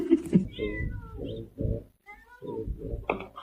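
A cat meows several times in a run of drawn-out, rising and falling calls, close by, with some faint background sound between them.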